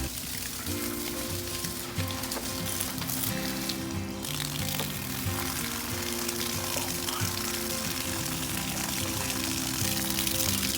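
Water flushing steadily through an EGR cooler removed from a Ram 3500 6.7 Cummins, a constant loud rushing and hissing stream with a low hum underneath, unbroken throughout.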